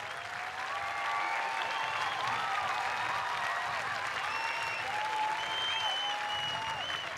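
A large outdoor crowd applauds at Opera in the Domain 2009, a dense, loud and unbroken roar of clapping with faint whistles or cheers rising over it that holds steady for about seven seconds.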